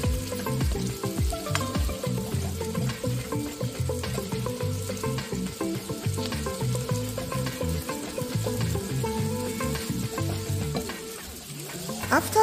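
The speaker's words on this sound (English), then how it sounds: "we're now going to add the vegetables and fry them until they are translucent" Vegetables frying in a hot pan for fried noodles, a loud continuous sizzle with rapid clattering and scraping of stirring throughout, easing briefly near the end, with no voices.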